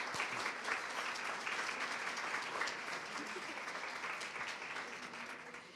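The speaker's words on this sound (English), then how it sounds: "I want you all to give yourselves a hand" Audience at an awards celebration gives a sustained round of applause, dense and steady clapping from a large room that holds at an even level throughout.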